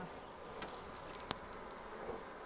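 Honey bees buzz steadily and close during a nuc hive installation on a farm, a continuous insect drone with a brief sharp click partway through and no talk.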